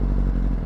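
A 2025 Kawasaki ZX10R sport bike's engine revs briefly, a short loud burst of close-up engine roar with no voices.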